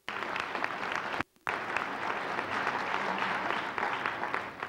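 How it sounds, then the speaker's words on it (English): Loud sustained applause from an audience at Rudy Giuliani's Florida concession speech, a dense wash of clapping that cuts out briefly and then resumes. "So let's applaud them all."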